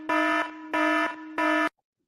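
Three long, loud electronic alarm blasts with brief gaps between them, harsh and buzzing, then silence.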